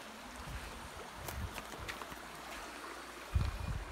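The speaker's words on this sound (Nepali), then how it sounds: "यत्रो जङ्गलको बिचमा खोला रहेछ" A jungle river flows steadily nearby as a continuous broadband wash of water, with low thumps and splashes building toward the end.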